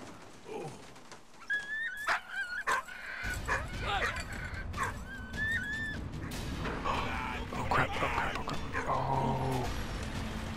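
A dog in the video game Valiant Hearts: The Great War, whimpering and yipping in short bursts with a few barks over busy game sounds and a low rumble.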